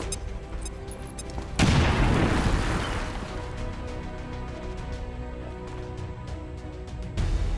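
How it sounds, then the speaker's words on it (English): A grenade in XCOM 2 blows open a wall with a sudden heavy blast, its roaring debris rumble decaying over several seconds before a second loud burst hits near the end. "we're gonna throw a grenade at this wall, and that's gonna give us a new way out"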